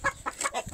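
A chicken in an African village clucks in a quick burst of short, close, fairly loud notes.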